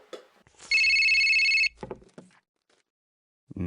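A telephone rings twice before voicemail picks up: a short ring burst near the start, then one long, loud electronic ring of about a second, followed by brief clicks and quiet.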